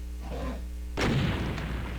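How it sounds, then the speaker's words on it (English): In the video game TNT Evilution, a sudden loud explosive barrel boom cuts in after a quiet stretch, followed by a rumbling, crackling tail that lingers to the end. "Barrel explosions are so fun."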